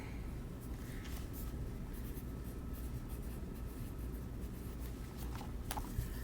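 Pencil or marker dragged in a steady, continuous stroke across paper while drawing the solid outline of a sphere, a soft even scratching that runs the whole time, close and quiet with no talk.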